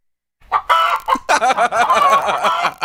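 A played recording of a chicken clucking, loud and close, breaking into a quick run of squawking, warbling clucks after a moment of silence.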